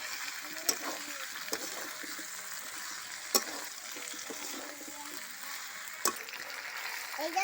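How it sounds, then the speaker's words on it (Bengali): Chicken sautéing in a pan with fried potatoes and Malabar spinach stems, a continuous soft sizzle with a few sharp spatula clinks against the pan, close and steady, no talking. "এবারে ভাজা আলু আর পুঁই শাক ডাঁটাগুলো এর মধ্যে দিয়ে আরও 10 মিনিট কষে নেব।"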